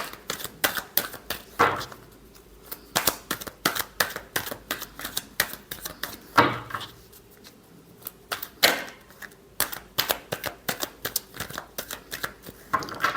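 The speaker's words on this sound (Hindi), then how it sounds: "Last shuffle." Tarot cards are shuffled by hand close by in repeated crisp bursts of riffling clicks and slaps, with short pauses between rounds and no talking.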